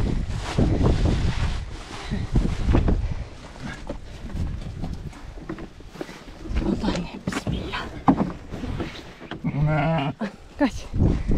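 Newborn lambs bleat at a farm during lambing season, short high cries scattered among people talking nearby, with shuffling and handling noises close by.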